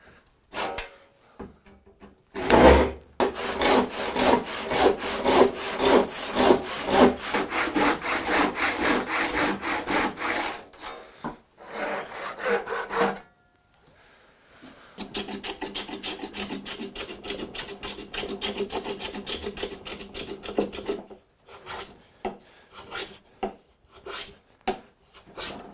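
Hand saw rasping steadily through very dense 500-year-old English oak, with rapid back-and-forth strokes in two long bursts and a brief pause between, close and loud with no talking.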